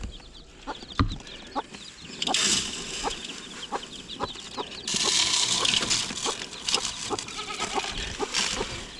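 Hen with chicks by rabbit hutches on wire floors, repeated clucks and chick peeps close by, with bleating farm animals mixed in and a steady outdoor hum beneath.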